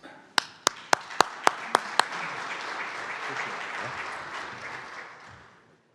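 Applause from a conference audience welcoming a panel onto the stage, opening with several sharp, distinct claps that swell into sustained, dense clapping before fading out.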